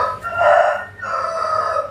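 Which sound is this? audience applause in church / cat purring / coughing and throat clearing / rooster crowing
rooster crowing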